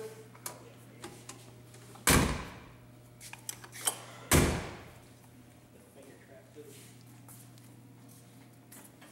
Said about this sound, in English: Hey, can we open the hood?